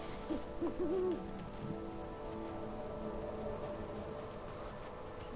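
An owl hoots in the video game Never Alone, a short wavering call early on, followed by a steady game soundscape of wind and ambience.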